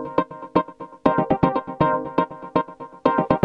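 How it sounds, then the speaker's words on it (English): Bamboo-like synth patch played by the Mesa+ realtime phrase sequencer, a quick pattern of short, hollow, woody plucked tones in a bouncing rhythm, clear and close with small gaps between bursts. "I'll open a patch as an example, bamboos. This is what it sounds like."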